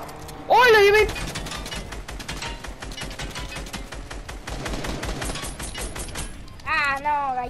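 Rapid bursts of automatic gunfire crackle steadily through the clip, with excited voices shouting over the shots at the start and end.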